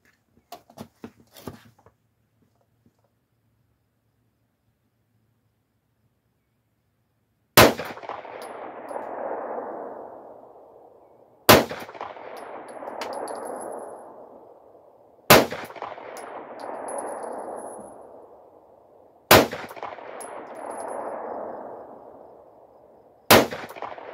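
Five Glock 43 pistol shots ring out, spaced several seconds apart, each a sharp crack followed by a distant metallic clang and a decaying ring from a steel target at 200 yards, set outdoors in quiet surroundings.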